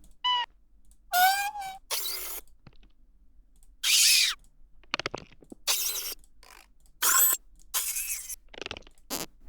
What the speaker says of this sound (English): it kind of thinks that sounds like a cat